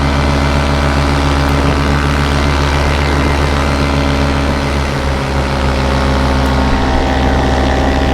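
A paramotor engine runs steadily in flight at full drone, a loud continuous buzzing roar with propeller hum and wind filling the whole clip.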